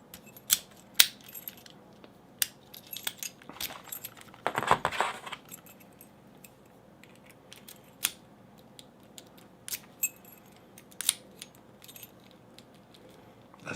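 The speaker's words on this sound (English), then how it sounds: "Alright, so let's try out the keys." Keys being tried in old American padlocks, with repeated sharp metallic clicks and jangles scattered through, one brief louder rattling burst, all close and fairly quiet with no talk.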